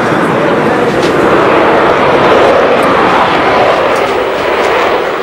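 A cargo airplane bringing basic goods to a remote region of Congo roars loudly and steadily throughout, a dense broadband engine drone with no breaks.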